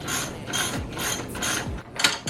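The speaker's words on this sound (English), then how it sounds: "let's go ahead, pull the swing arm bolt out" The swing arm bolt on a 2021 KLX450R motorcycle frame is worked out with a run of close, loud metallic ratcheting and grinding strokes in a steady rhythm, ending in a sharper clank. No one speaks.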